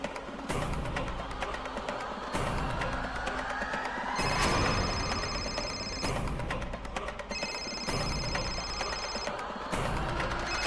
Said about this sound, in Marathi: यार फोन वाजतोय